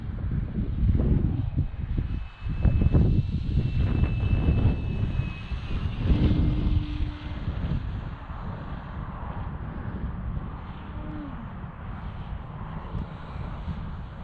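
Electric Sig Kadet Senior RC model airplane in flight, a steady motor whine and buzz with wind rush across the microphone, sustained and fairly loud throughout, swelling and easing as it maneuvers.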